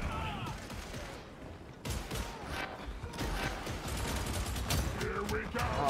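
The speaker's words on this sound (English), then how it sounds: "Oh my god, what's shooting me?" Bursts of gunfire crackle through a busy, dense Warhammer 40K Darktide battle, with sharp shots and mechanical clatter layered over a constant roar of combat.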